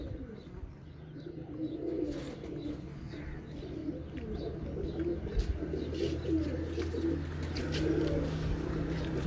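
Pigeons coo on a rooftop in Sialkot, a steady murmur of soft, low, rolling calls that overlap throughout with faint background noise and occasional distant chirps.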